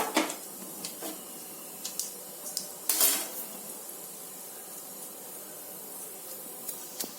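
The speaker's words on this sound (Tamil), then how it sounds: "இப்ப எண்ணெய் சூடாயிருச்சு நம்ம கடுகு சேர்த்துக்கலாம் இதுல கடுகு நல்லா பொரிஞ்சு வரட்டும்" Mustard seeds splutter in hot oil in a kadai while mango chutney is cooked, with scattered sharp pops over a steady sizzling hiss and a denser crackling burst partway through. Nobody speaks.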